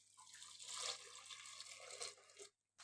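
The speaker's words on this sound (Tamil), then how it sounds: "இப்போ இது வேக வைக்கிறதுக்கு தண்ணி ஊற்றிடலாங்க." Water poured steadily into a cooking pot of lentils and sprouted green gram, a continuous close splashing stream that runs for a couple of seconds and then stops abruptly.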